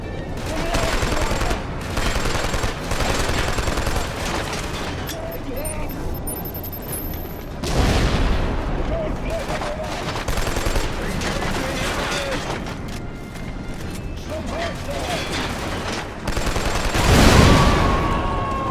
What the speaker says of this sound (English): you don't see explosions like that in these modern games